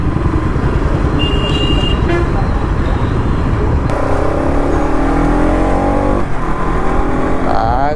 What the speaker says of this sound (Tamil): ஆகா எக்ஸாஸ்ட் நோட்டை பார்த்தீங்களா?